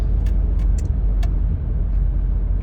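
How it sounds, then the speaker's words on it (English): A steady low rumble of road and engine noise heard from inside a moving car, with a few faint clicks and rattles scattered over the drone and no one speaking. "pardon the noise, but I'm in the car, so that's the sounds that you're hearing."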